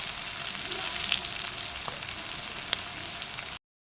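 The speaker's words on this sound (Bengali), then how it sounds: "আগে ভালো মতন এগুলোকে ভেজে নেব।" Sliced onions sizzle and crackle in hot oil in a pan, browning as the first step of a thin Bengali rohu fish curry with taro and potato; a bright, steady frying hiss with the odd sharp pop, close and alone.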